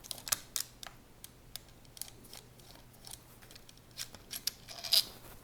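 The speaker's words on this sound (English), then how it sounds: "Let me take this screw out." A screw is taken out of a flintlock pistol with a tool, heard as a quiet series of small clicks, scrapes and metallic ticks scattered across a hushed room, with a brighter tap toward the end.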